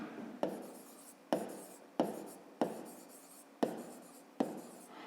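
A pen writes a math solution by hand on paper: six distinct scratchy strokes come in an even rhythm, each starting with a sharp tap and trailing off, close and clear with no talking.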